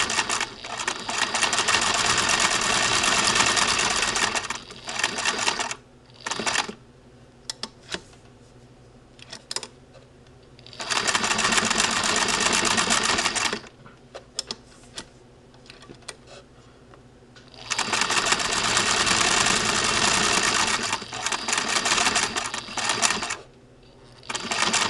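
A miniature double-point knitting machine runs in loud bursts of rapid mechanical clatter, three long runs separated by pauses filled with short stuttering clicks and quieter handling.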